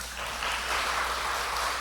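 Congregation applause during a Korean afternoon praise worship service in church, a steady wash of clapping from a sizable crowd heard from a distance, fairly soft and continuous without a voice over it.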